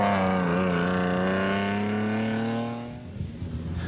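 A Toyota Land Cruiser rally car races in the Magalies 400, its engine revving high and loud with a rising then falling whine as it passes, fading into rougher lower noise at the end.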